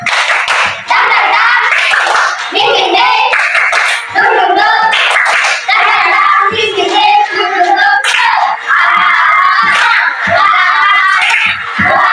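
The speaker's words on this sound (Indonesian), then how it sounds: "Tepuk semangat." A classroom of children clapping a rhythmic cheer pattern together, loud and close, with bursts of kids shouting and voices mixed into the steady claps.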